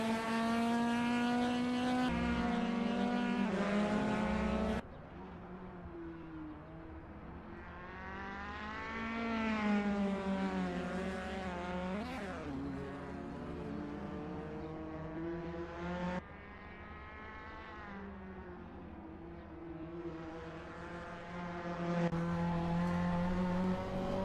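A race car in a racing video game roars through a qualifying lap of the Nurburgring Sprint GT circuit in Germany, its engine revving high and rising and falling through gear changes, loud and continuous with no talk.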